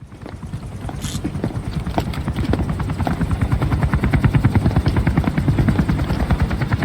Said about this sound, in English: Fine, we'll call in the helicopter